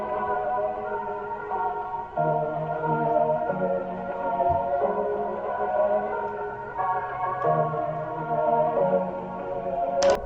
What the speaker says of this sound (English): I then got the same chord progression and laid it on a new sound.